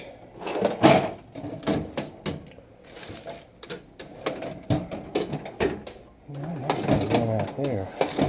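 Rummaging through a toolbox for a washer, with close irregular clanks, rattles and knocks of tools and metal parts being shifted, and a person talking over the later part.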